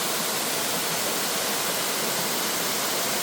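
Water rushes steadily at Wibong waterfall, a dense, loud, unbroken roar of falling water with no voices over it.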